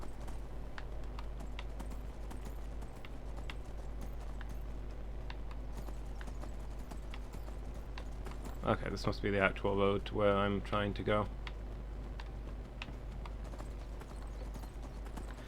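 A horse's hooves clip-clop in a steady rhythm along a road in Skyrim, under a low hum. Someone talks over them partway through, and a brief burst of other voices sits in the middle.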